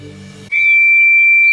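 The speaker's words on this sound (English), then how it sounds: "Percy blew his whistle long and loud, scaring everyone." A steam locomotive whistle is blown long and loud as one steady, piercing, high tone of over a second. It rises sharply out of a brief low musical passage and is heard alone.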